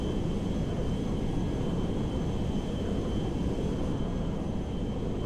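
A Boeing 747 Dreamlifter cargo jet flies in GTA 5 near an airport on approach, its engines a steady, loud, unbroken broadband roar that holds at an even level throughout.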